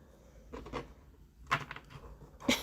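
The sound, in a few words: shuffling tarot cards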